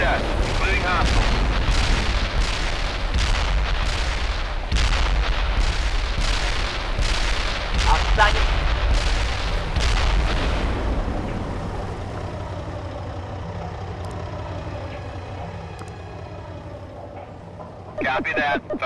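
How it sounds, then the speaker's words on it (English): Repeated heavy booms of an artillery barrage strike in a World in Conflict battle, a dense run of loud explosions in the first half giving way to a rumbling aftermath, with radio voices talking. "Artillery barrage inbound."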